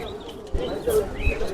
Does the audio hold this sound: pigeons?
yes